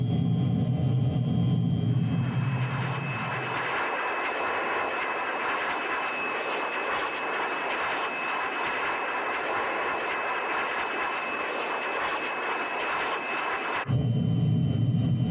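A De Havilland Vampire jet in Microsoft Flight Simulator 2020 gives a steady, droning engine whine with a constant high tone, bracketed by a deeper rumble at the start and end.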